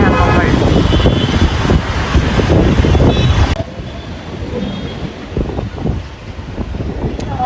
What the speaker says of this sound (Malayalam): നല്ല തണുപ്പ്, കറുത്ത കാറ്റ്.